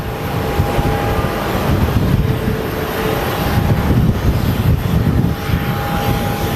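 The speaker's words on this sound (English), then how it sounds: "it's windy" Strong wind roars steadily across the microphone at Phoenix Sky Harbor Airport, a dense continuous rush with a faint tonal hum running underneath.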